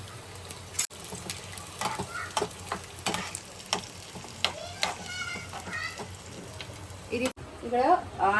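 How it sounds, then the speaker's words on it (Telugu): Onions fry in hot oil for Hyderabad chicken biryani, giving a crackling sizzle with intermittent stirring clatters, while a person talks over it. "ఆనియన్స్ ఫ్రై అవుతుంటాయి"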